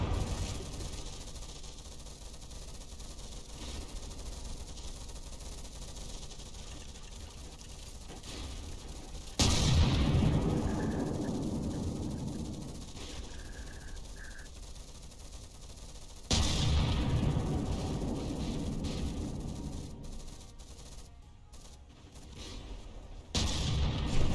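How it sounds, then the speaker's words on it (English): Plunging CRAM cannon shots firing in From the Depths during a battleship fight, two heavy booming blasts with long rumbling tails, loud and close, no talk. "These plunging fire cram shots are dangerous."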